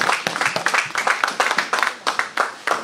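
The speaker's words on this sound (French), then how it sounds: "Acclamons pour cette parole." A church congregation claps together in steady, dense rhythmic applause, loud and close, with many hands beating in quick repeated bursts and no talk over it.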